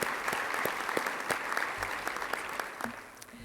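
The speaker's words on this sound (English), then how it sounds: "Yes, and I applaud you." Applause from the audience at a city Women's History Month celebration, a brief burst of scattered, moderately distant clapping with distinct individual claps standing out over a softer crowd bed.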